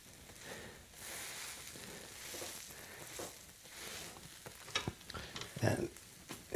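Thick-cut French toast fries in a pan with a quiet, steady sizzle, and a few louder scrapes and taps toward the end.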